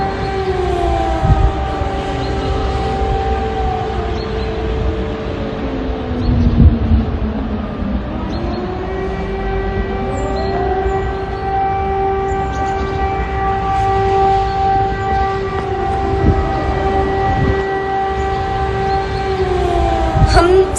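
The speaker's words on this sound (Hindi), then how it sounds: "जहां आप सायरन की आवाज सुन सकते हैं।" An air raid siren in Ternopil, Ukraine, during a Russian attack wails continuously, its long tones rising and falling in pitch, loud and sustained throughout with faint background noise.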